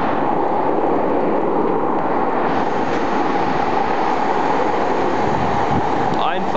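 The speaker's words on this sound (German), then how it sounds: "Ausfahrt einer Linie 9" Cologne line 9 tram pulling out of a stop, a loud continuous rumbling roar with rail noise filling the whole clip at close range.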